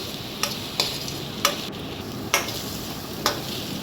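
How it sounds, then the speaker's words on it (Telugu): An egg frying in a pan with spices for egg chapati noodles, a soft steady sizzle under five evenly spaced scraping strokes of a spatula, close and with no talking. "ఎగ్ కొంచెం బాగా ఫ్రై అవ్వాలి."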